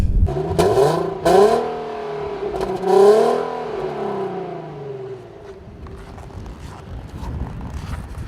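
A 2014 Infiniti Q60 engine accelerating on a snowy mountain road, revving up in two rising surges before settling into a steady, fairly quiet hum that fades slightly, with no one talking.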